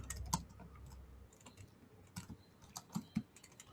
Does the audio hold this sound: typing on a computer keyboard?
yes